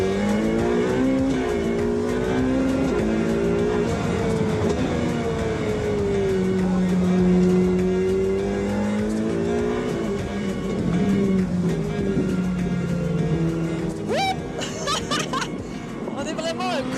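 A mid-rear-engined Ferrari revs and shifts through gears at speed on a race circuit, rising and falling in pitch, with sharp high squeals near the end.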